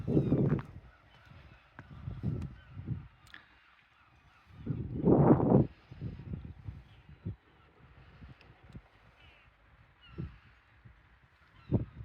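Geese honk in scattered bursts from a river beach, some calls sharp and close, others fainter and farther off, over a quiet outdoor background.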